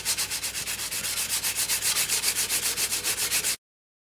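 Quick, rhythmic strokes of sandpaper rub back and forth on the wooden finish of a custom mandolin, a close, even scratching pulse that stops abruptly.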